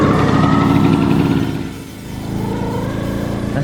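A classic Vespa scooter's small engine runs loud and close as the throttle and clutch are eased open to pull away, a raspy buzzing drone that dips briefly and then settles.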